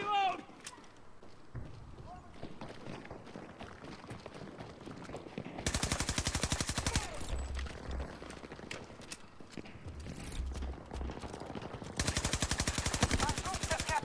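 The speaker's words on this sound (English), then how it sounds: "Automatic weapon that actually stays on target." Automatic rifle gunfire in Battlefield 2042, heard as dense rapid bursts that come in two loud sustained stretches over a busy battlefield background, with a player talking.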